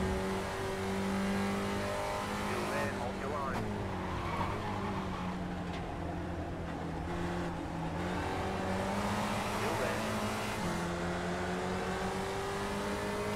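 Race car engines whine at steady high revs in an iRacing race at Daytona. Other cars run close alongside, with droning tones that shift in pitch and a brief tire squeal, and no speech.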